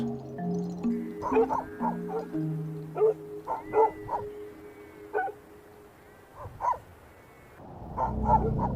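Dogs bark at night in snow leopard country, giving short, sharp barks in uneven bursts at a moderate distance, over faint background tones, with a louder cluster near the end.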